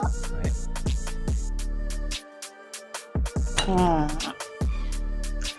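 Glasses clink together in a toast among friends, several bright chimes in quick succession mixed with close chatter and voices around them.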